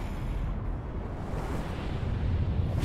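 Bomb explosions in the video game Tales of Arise: a dense, continuous low rumble with crackling debris noise, loud and sustained for the whole stretch rather than one sharp blast.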